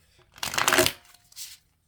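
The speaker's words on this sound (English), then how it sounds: "It's not so hard for me to shuffle." A quick riffle of tarot cards being shuffled, a half-second burst followed by a shorter second flutter, close and crisp.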